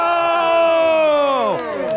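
A crowd at a mountain bike whip-off contest at Fisher Fest 2023 cheers loudly, with rising and falling whoops and shouts blending into one sustained roar close by.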